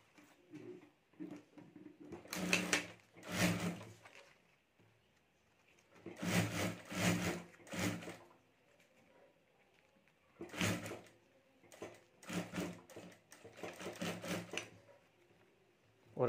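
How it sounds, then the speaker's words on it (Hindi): A home sewing machine joins the two side panels of a sling bag, stitching in several rattling, whirring bursts separated by pauses, with soft handling of the fabric between runs. "यहाँ में साइड में सिलाई करके हमें ये दोनों पार्ट जोड़ देना है"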